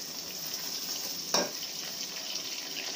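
Green chilies frying in a pan as a pot of chicken pilaf is prepared, a steady soft sizzle with one brief louder splash or stir near the middle, close and alone without speech.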